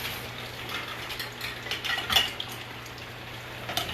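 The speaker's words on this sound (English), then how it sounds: "Just give it a little stir so it doesn't" A shrimp and rice stir-fry being stirred in a hot pan, with soft scraping and light clinks of a utensil against the pan over a low steady sizzle and hum, fairly quiet and close.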